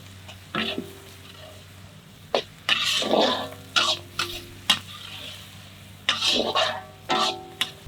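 Onions sautéing with salt in a pan for a village goat head dish: soft sizzling under repeated scraping stirs and clinks of a utensil against the pan, close and fairly quiet.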